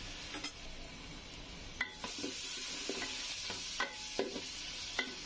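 Onions softening in a pan for Bengali bhuna khichuri, a quiet, low sizzle broken by several sharp clicks and scrapes of a spoon stirring against the pan, with no voices.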